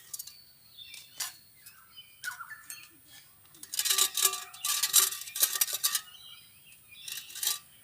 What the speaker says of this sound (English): sparrows are laughing at me